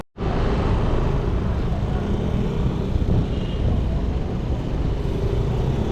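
Steady, loud roadside traffic on a hot road toward Antipolo, with motorbikes and cars streaming past close by, a constant broadband roar that barely changes from start to finish.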